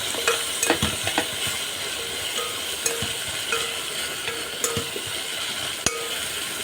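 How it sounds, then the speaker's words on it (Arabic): Okra sautéing in a pan with onion, garlic and pepper: a steady close sizzle and frying hiss with occasional stirring scrapes and light clinks of utensil against the pan, no talk. "بدي الباميه كده تشويحه كده الاول مع البصله مع التومه مع الفلفل"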